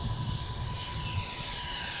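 Twin EDF RC model jet, a small red Twinliner with twin 40s fans, screaming past at full throttle with a steady, loud, broadband ducted-fan roar and no talk.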